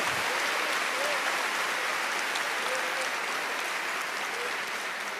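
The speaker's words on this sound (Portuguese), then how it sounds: "pode aplaudir o Senhor" Church congregation applauding during a sermon, a dense, sustained clapping that fills the room evenly from start to finish, with a few faint voices mixed in.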